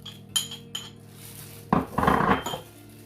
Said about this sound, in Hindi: तो एक बोल लेंगे, उसमें जो भी इंग्रेडिएंट्स मैंने आपको बताए थे वो सारे मिक्स करेंगे।